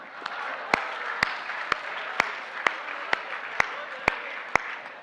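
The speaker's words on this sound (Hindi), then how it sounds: "जिसको खुशी हो ताली बजाना" An audience at a Haryanvi comic poetry recital applauds in a steady wash of clapping, with sharp, evenly spaced individual claps standing out near the front.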